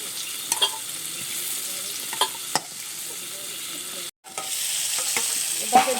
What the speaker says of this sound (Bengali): হলুদ আর লবণটা দিয়ে আমি আবারও একটু এভাবে নেড়ে ছেড়ে নিচ্ছি